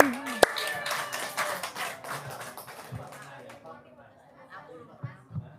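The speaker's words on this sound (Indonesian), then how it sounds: "Tepuk tangan dong." A crowd claps in a burst of applause mixed with chatter and talking, fading over a few seconds into scattered voices.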